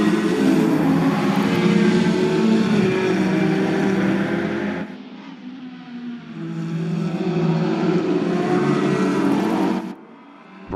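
Several race cars in a sim racing event, a BTCC-style touring car series, roar off the start together in a dense, loud engine drone that dips briefly midway before surging again, then cuts off near the end.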